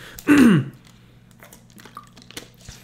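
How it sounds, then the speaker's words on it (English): A single short, loud throat clear from a man on a sports talk show, a brief guttural burst followed by quiet room noise. "I got to clear my throat, excuse me."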